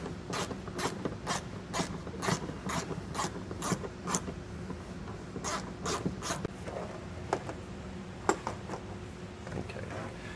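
Bolts being unthreaded from the frame rail of a 2023 Toyota Camry, a steady series of close ratcheting clicks that slows and thins out toward the end, over a faint background hum.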